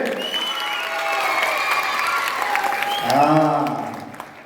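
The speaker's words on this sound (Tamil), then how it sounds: "என்ன கைத்தட்டல் கம்மியா இருக்கு?" Audience applause and cheering at an awards event, crowd noise running throughout with voices calling and singing over it, swelling louder near the end before tapering.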